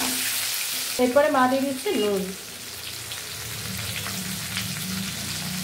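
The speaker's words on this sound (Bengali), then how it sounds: "এটা এখন আমটা ছাকা তেলে ভাজা হচ্ছে।" Raw mango pieces coated in turmeric fry in hot oil for a sour pickle, a soft steady sizzle that continues after a brief spoken remark at the start.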